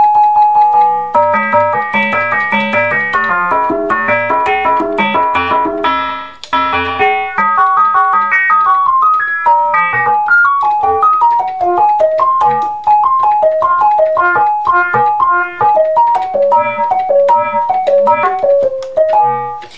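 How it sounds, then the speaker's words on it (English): A Moog Source synthesizer preset with a ring modulation filter effect plays a bright, bell-like, metallic melody of fast steady notes. It is loud and continuous, with a brief dip partway through and no talking. "I've actually built this to have like a ring modulation effect."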